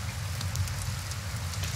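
Rain falling in the tavern management video game Tavern Master, a steady soft patter with a low rumble underneath, continuous throughout and without talking.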